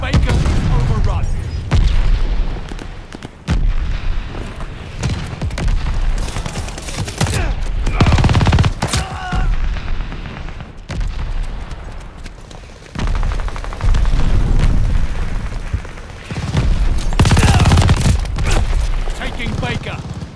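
Friendly mortar fire and gunfire in the video game Vanguard, loud and close, with bursts of rapid shots and heavy booms coming in waves with short lulls, plus voices talking over the action.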